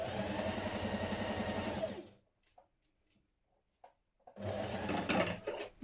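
Sewing machine stitching darts on a spring top runs in a steady, close whirring burst, stops for a quiet pause with faint handling clicks, then whirs again.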